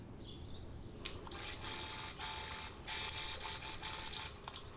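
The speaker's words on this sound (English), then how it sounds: "I'm going to sew the center back seam this time." Domestic sewing machine stitching the center back seam of pajama pants, its mechanical whir starting after a quiet second and running in several bursts with brief pauses, fairly faint and close, no voices.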